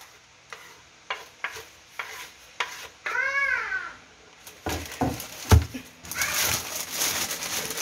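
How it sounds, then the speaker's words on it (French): Peppers and onions stirred in a pan, with several scraping knocks of a utensil and a soft sizzle that grows busier toward the end; a voice speaks briefly. "Je vais un peu mélanger le tout"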